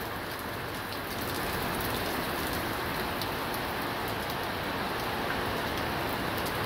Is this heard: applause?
no